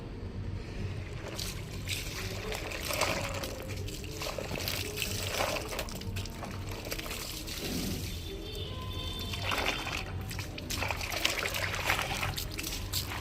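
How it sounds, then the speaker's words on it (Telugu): White clothes being rinsed by hand in a tub filled with four buckets of water, giving a steady close sloshing and trickling of water throughout with no talk. "వాషింగ్ అయితే అయిపోయిందో ఇప్పుడు మనం బట్టలు జాడించాలి"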